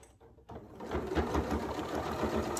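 A Janome Memory Craft MC9450 sewing machine stitches a fabric face mask, starting after a short pause and running as a steady, close, rapid mechanical whir with even rhythmic needle beats.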